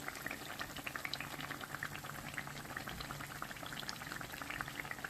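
Pitha cakes fry in plenty of hot oil in a large frying pan, making a steady, quiet sizzle and bubbling crackle throughout with no voices.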